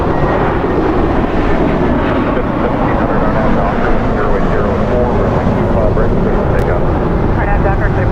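A jet airliner, a JetBlue plane cleared for takeoff on runway 25 right at Los Angeles airport, roars loud and steady with a broad rumble throughout, and a voice talks over it.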